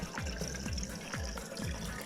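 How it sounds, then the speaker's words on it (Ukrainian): Water splashes and gurgles steadily, with repeated low glugging pulses as it pours into a car engine's coolant tank, close by and fairly quiet. "Потім подаю воду через двигун, через бачок все л'ється"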